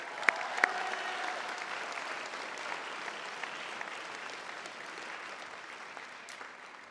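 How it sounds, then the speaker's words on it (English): An audience at a technical college graduation ceremony gives a sustained round of applause, the steady crowd clapping filling a large hall and slowly tapering off, with a few sharp louder claps near the start. "Mario, round of applause."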